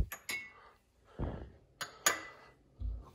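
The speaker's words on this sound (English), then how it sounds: "Now we're going to take a martini glass." A martini glass clinks several times as it is handled and set down on a hard surface, short sharp separate clinks with quiet gaps between them.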